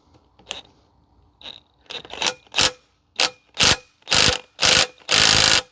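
Ratchet loosening a nut on a Dana 30 axle, sounding in short, sharp clicking bursts, first faint and sparse, then loud and regular, close by with no talk.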